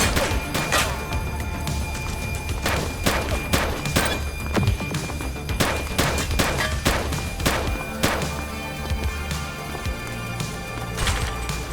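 Gunfire in The Precinct police video game comes as repeated sharp shots and bursts scattered across the stretch, loud and close over a low rumbling background.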